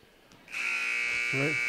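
An electronic end-of-quarter buzzer sounds at a girls high school basketball game, a loud steady tone starting about half a second in and holding to the end, with a voice briefly heard underneath.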